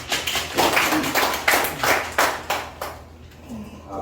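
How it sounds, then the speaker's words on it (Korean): An audience at a Korean health talk gives a round of applause, a run of distinct, fairly loud claps in a loose rhythm that thins out and fades to near quiet toward the end. "선배님한테 박수 한번 부탁드리겠습니다"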